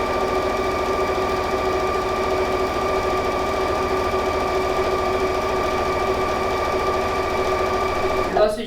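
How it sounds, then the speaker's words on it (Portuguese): A sewing machine runs continuously while stitching a straight seam on fabric for a bath mat patchwork kit, a close, even mechanical hum with a fast rhythmic needle beat, ending with a brief clunk. "Vou usar aqui uma costura reta, mas poderia ser um pontinho decorado também."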